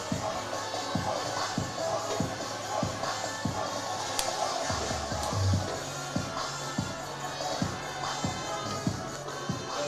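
Crowd at a high school football game with cheerleaders and dance team, a busy background murmur of voices and movement with rhythmic thumps, steady and moderately loud.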